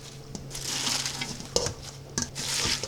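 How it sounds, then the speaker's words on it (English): Collard greens being pressed and smashed down in a pot with a spoon, giving soft crushing and rustling scrapes with a few sharper knocks against the pot, close-up and moderately loud. "we're going to smash these down so we can add the rest of the greens in here"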